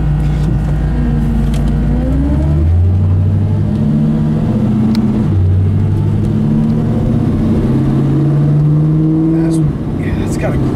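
A 1980 Camaro with an LS V8 engine rumbles and revs while driving, its deep exhaust note rising and falling through repeated gear changes, loud and close, with a person talking over it.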